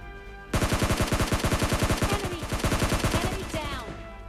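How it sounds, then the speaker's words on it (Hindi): Rapid automatic gunfire in the PUBG video game, a dense burst of loud rhythmic shots that starts abruptly and rattles on steadily for several seconds, close and harsh. "सामने फायरिंग के साउंड"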